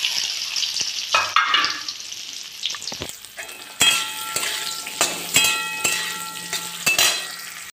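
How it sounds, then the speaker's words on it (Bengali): Potato pieces fry in hot oil left over from frying paneer, a lively close sizzle broken by scraping and clinking stirs of a spatula against the pan, with no talking. "এরপরে আমি ওই একই তেলে আলুগুলো ভেজে নেব।"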